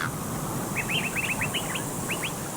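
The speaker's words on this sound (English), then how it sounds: "You can even hear birds chirping off in the distance." Birds chirp in a quick run of short, thin calls in the distance over a steady ambient bed on the Castle map in Call of Duty: World at War, a video game.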